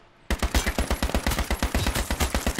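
A full-auto AK rifle rattles off in a video game, a loud, close, rapid burst of evenly spaced shots that starts abruptly after a brief quiet moment and keeps going to the end.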